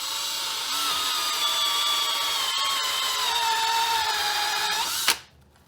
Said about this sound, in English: So we'll go ahead and drill this.